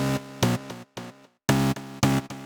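A synthesizer preset called citrus tree plays short, punchy chord stabs in a choppy rhythm, bright and loud, with brief silent gaps between bursts and no voices.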